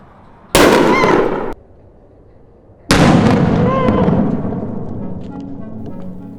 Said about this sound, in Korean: 이렇게 병이 폭발하는 것을 볼 수 있습니다